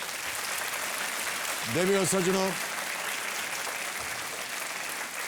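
A studio audience on a quiz show applauds film star Anil Kapoor, a broad wash of clapping running throughout while someone speaks over it partway through.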